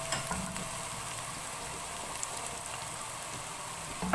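Tomato, ginger, garlic and peas frying in a pan for vegetable pulao, a faint steady sizzle with soft crackle throughout.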